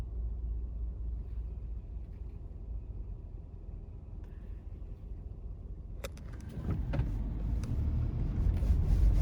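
A car driving along a road in winter, its steady low engine and road rumble continuous throughout, growing louder and brighter with added road noise in the second half; no talking.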